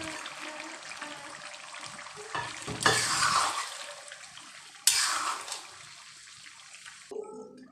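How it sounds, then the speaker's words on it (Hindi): Tomatoes frying in hot oil for chicken handi while being stirred, with loud hissing sizzle bursts that flare up twice and then fade, plus scraping of the spoon in the pot, no speech. "टमाटर डाल देती हूँ।"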